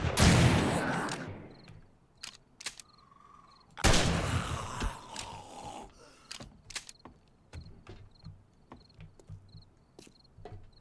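Gunfire in the zombie survival game 7 Days to Die at night in a supermarket, with a loud burst, a pause, then another heavy blast followed by scattered sharp shots and clicks amid a faint insect-like chirping background.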